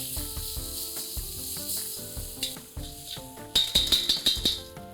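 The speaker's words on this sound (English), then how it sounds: "a tablespoon of garlic paste, a tablespoon of ginger paste, and just saute it for a minute." Garlic paste and ginger paste sautéing with onions in a pan, a steady close sizzle and fry with spoon clinks and stirring scrapes growing busier toward the end, no talking.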